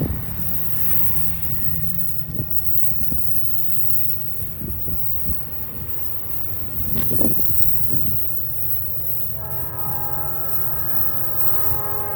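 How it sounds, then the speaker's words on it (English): Train wheels squeal and ring on the rails under a rumbling freight train, with high tonal squeals rising near the end over a steady low roll and occasional clanks, fairly loud, no talk. "I hear the rails singing."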